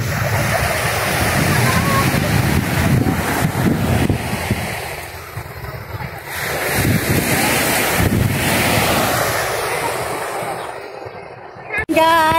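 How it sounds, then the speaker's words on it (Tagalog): Ocean waves wash steadily onto the seashore in Macao, a continuous close surf roar with heavy wind buffeting the microphone, and a voice speaks faintly underneath. "dito ako sa tabing dagat"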